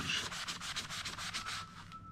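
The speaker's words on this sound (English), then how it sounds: "when we start with this, and we just rub a little bit" A wall stain being rubbed clean by hand, giving a steady run of close, scratchy strokes of roughly even rhythm that fade out near the end, with no voices.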